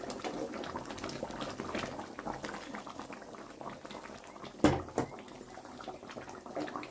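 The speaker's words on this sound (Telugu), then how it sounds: "ఇలా తుక్కుతుక్క ఉడకాలి కూర దగ్గరికి వచ్చేసింది" Andhra fish curry, chepala pulusu, bubbling as it boils in a pot, a continuous close burble of popping bubbles with a brief louder clatter midway.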